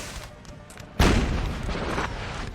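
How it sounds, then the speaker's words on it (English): A 4-pounder artillery piece fires in a Napoleonic Total War multiplayer battle: one heavy boom about a second in, followed by a sustained rumbling tail over low background battle noise. "Wow, oh, it's artillery. Artillery is going to start"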